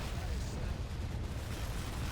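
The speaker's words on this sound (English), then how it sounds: "With great explosions in the background." Explosions rumble through an urban battle in the Men of War strategy game, a steady, low, muffled roar of distant blasts that keeps going throughout, fairly quiet overall.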